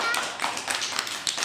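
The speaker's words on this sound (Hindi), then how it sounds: "कहानी के लिए ताली बज रही है" Children clapping for a story, a quick dense patter of small hands with a few sharper taps standing out, close and moderately loud, with a faint voice underneath.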